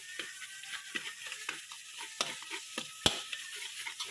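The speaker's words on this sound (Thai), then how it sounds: "ผัดกันน้ำมันให้มัน หอมนะครับพี่น้อง" Glass noodles stir-fried in oil with a spatula: quick, regular scraping strokes against the pan, several per second, over a soft low sizzle, close and moderately quiet.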